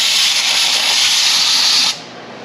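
Compressed spray is aimed at the relay area of a 1995 Jeep Wrangler 4.0 while it is being cleaned. It makes a loud, steady hiss for about two seconds and then cuts off abruptly, leaving a quieter background.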